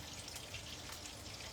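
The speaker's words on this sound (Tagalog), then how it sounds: "Maambon dito ngayon." Light drizzle patters steadily and softly outdoors in the Philippines, a continuous faint hiss of fine rain with no voices.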